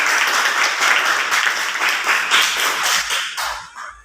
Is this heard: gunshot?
no